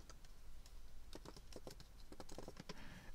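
Rapid keystrokes on a computer keyboard, entered while installing a PostgreSQL extension, patter in quick irregular bursts at low level with no voice over them.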